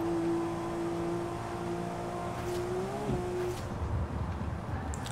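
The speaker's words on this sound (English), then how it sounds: "Well, it's not really a Porsche sound, but at least the sound is pretty okay." A Porsche engine in the racing game Forza Horizon 4 holds a steady, fairly quiet drone with a slight pitch shift midway, heard alone without talk.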